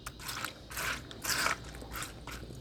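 Gold paydirt material is crunched by hand, giving a handful of short, gritty crunching bursts in an irregular rhythm, close and fairly quiet.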